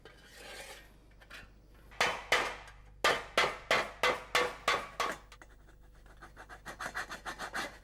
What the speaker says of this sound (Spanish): Sobre una pieza de plomo, con el martillo de combar, Nicolás empieza a dar la forma abombada a la tapa.